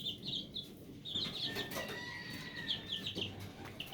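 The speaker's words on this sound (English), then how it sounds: "He's a pure game fowl right here." Game fowl chickens cluck and chirp in short repeated bursts close by on a farm, with a faint rooster crow and some wing flapping mixed in, no talk.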